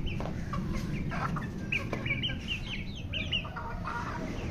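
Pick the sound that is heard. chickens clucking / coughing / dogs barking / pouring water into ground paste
chickens clucking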